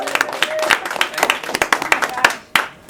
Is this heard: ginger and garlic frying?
no